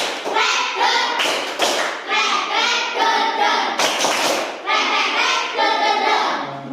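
A classroom group claps in rhythmic bursts during an ice-breaking counting game, loud and close, with children's voices chanting along between the claps.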